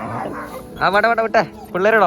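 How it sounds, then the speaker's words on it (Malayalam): A dog barks and yips several times in short bursts, fairly close, while a person speaks over it. "അല്ലല്ല അവിടെ ഒരു ഡോഗ് ഉണ്ട് കേട്ടോ"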